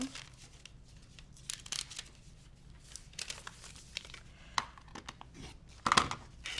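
Foundation paper for a petit four quilt block being cut with scissors, heard up close as irregular crinkling and rustling of paper with sharp snips and a louder cut near the end.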